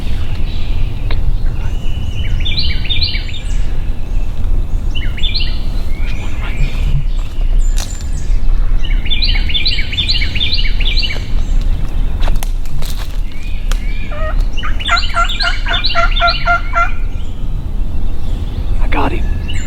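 Wild turkeys gobble in repeated rattling bursts during a Midwest hunt, several birds calling close by in clusters amid rustling and movement, with people talking quietly between calls.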